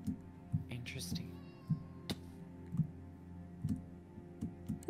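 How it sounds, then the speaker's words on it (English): A cat meows once in a video game world, a short whine-like call amid rhythmic low thumps and clicks of game sounds, with quiet voices present. "There's a cat."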